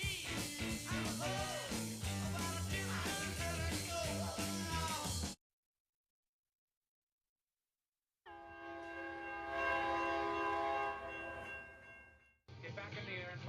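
A train horn sounds in a loud, dense passage with music, cuts to silence, then returns as a sustained, steady horn-like tone that swells and fades.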